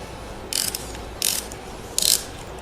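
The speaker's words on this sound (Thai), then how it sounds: "หมุนมือนิดหน่อยแล้วก็ไขควงตามไปเลยครับ" A screwdriver tightening the terminal nut on a Honda Monkey motorcycle battery, three short ratcheting clicks spaced out at a steady pace over quiet background, close by.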